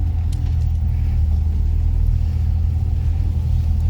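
Manual car driving very slowly in first gear, a steady low engine rumble and road drone from inside the cabin, continuous and fairly loud without any distinct revving.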